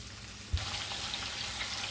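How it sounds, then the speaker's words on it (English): Bacon sizzles in a pan with a steady, crackling fry, up close and continuous, rising slightly in intensity partway through. "So while our bacon is frying up"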